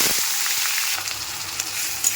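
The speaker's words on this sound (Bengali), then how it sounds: "আমি কালো জিরে আর তেজপাতা ফোড়ন দিয়ে দিলাম" Nigella seeds and a bay leaf crackle and sizzle in hot oil in a pan, a steady close frying hiss with small pops and no talking.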